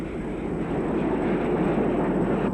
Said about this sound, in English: This is Pioneer County Class locomotive number 1000,